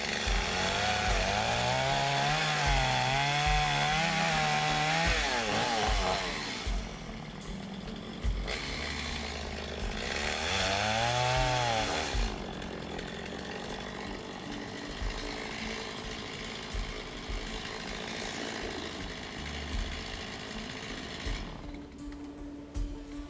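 A power saw cuts timber for roof framing on a natural building site, a loud droning whine rising and falling in pitch across several cuts, with quieter gaps between them.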